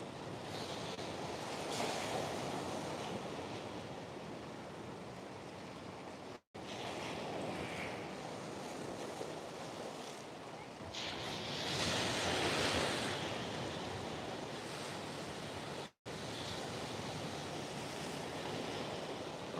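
Ocean backwash and surf wash onto the shore on a coastal whale-watching outing. The water sounds are near and continuous, with a rising surge partway through and wind buffeting the microphone.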